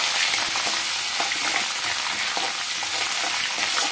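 Ginger, onions and green chillies frying for upma, stirred in a pan, give a steady close sizzle with faint scraping stir strokes throughout, no talking.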